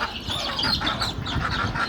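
A hungry flock of farm ducks calls nonstop, dense overlapping quacks and honks close by, with no other sounds.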